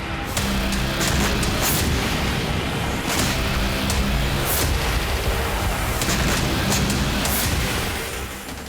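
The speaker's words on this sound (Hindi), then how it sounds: "एक के बाद एक कई विस्फोट से बेरूत एयरपोर्ट बुरी तरह दहल गया।" Dense, continuous rumbling blasts and cracking booms from heavy bombing explosions near Beirut airport, loud and sustained throughout with no voices.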